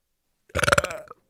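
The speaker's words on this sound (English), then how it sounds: "Sorry for the burp there." A single short, loud burp from a live-stream host, a rippling voiced belch of about half a second standing alone with silence before and after.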